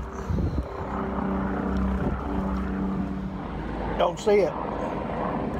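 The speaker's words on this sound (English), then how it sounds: "I'm hearing a helicopter." A helicopter passes somewhere overhead near Collin Park at sunset, a low steady droning rumble running under a person's voice.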